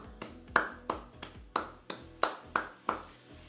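A small group claps in a broken, uneven rhythm, about nine sharp claps spread over a few seconds, with steady electronic game music playing underneath throughout.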